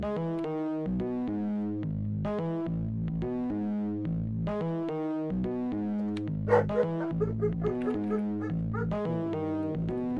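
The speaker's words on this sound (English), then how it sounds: "Why is this dog barking?" A dog barks repeatedly in an uneven rhythm, with higher yips and whimpering sounds mixed in partway through; no talking.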